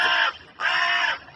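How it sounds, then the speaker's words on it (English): A crow caw sound effect gives two loud, harsh, drawn-out caws close by, separated by a short gap, with no talk. "Don't do a crow sound for me."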